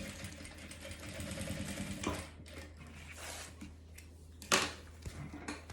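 A sewing machine runs in a steady, close whir as it stitches a fabric vaccination card cover, pausing briefly before a short burst of handling noise.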